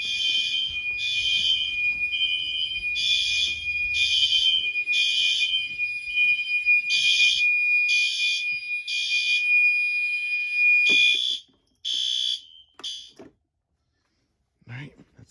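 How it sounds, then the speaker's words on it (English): A security system alarm panel buzzer sounds in a garage during a system test, loud repeated pulsing beeps in an even rhythm for about eleven seconds before cutting off, followed by a few scattered short chirps. "You can actually hear the panel buzzer."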